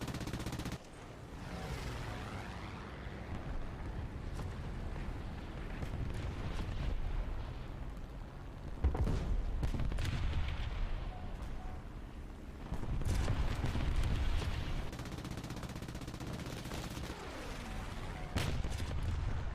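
Sustained heavy .50 cal machine gun fire in a video game, loud and dense bursts rolling continuously with explosive booms layered throughout, no talking.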